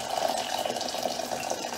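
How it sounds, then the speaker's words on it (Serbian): Excess water from cooked pumpkin is poured into a small pot, a steady, close splashing trickle of liquid running without pause for the whole moment, with no voices over it. "sad ću ovaj višak vode da odvojim u ovu šerpicu"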